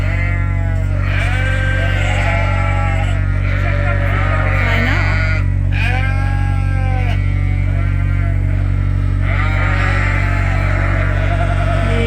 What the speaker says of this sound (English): We got a little ram lamb here who is very interested in the ewe lambs already.